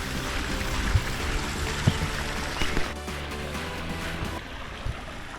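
A backyard pond waterfall flows in a continuous rushing, splashing stream, with a few faint knocks but no talk.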